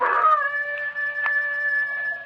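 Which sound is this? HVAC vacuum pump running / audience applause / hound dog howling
hound dog howling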